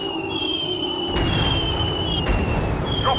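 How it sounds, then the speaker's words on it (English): Aircraft-dropped bombs in a video game: steady muffled explosions and bursts under a continuous engine drone with faint whistling tones, loud and close throughout, with no voices. "Dropping bombs!"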